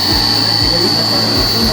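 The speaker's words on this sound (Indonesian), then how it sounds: "Ini motor menggunakan pompa." Loud and constant, a 5 kW electric motor drives a solar-powered farm water pump in Karawang with a steady drone and a piercing high tone, and someone speaks over the machinery.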